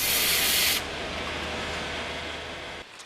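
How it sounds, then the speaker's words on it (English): Grit blasting of old riveted steel columns and girders during refurbishment of a station train shed: a loud, steady blast of hissing spray, bright and roaring at first, then settling into a continuous duller rush before cutting off near the end. "This included grit blasting and repainting."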